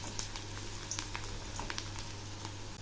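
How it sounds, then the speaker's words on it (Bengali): Onions frying in oil in a pan, a faint steady sizzle with scattered sharp crackles and pops over a low hum. "এখন এই পেঁয়াজগুলো একটু লাল করে ভেজে দেব।"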